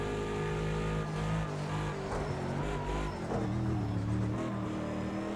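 Bentley Continental GT3 race car in Project CARS 2 at Bathurst, its engine droning loudly and steadily throughout with shifting pitch, faint tire noise and a brief voice.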